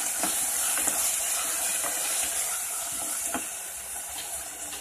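Baby corn tossed with salt and black pepper powder, a soft continuous stirring and faint sizzle under a steady hiss, quiet and even throughout.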